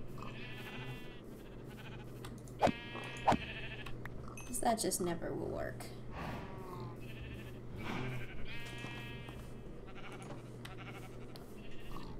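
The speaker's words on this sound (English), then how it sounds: "Let's go take care of this sheep in my pig pen." Sheep bleating in the Minecraft video game, several short bleats standing out over steady game background and music while a person talks through the clip.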